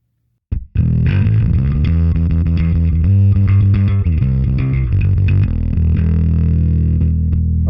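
Bass guitar played through the optical compressor model on a Line 6 POD Express bass pedal: a sustained, compressed line of several notes with a steady, even level, loud and alone with no talking.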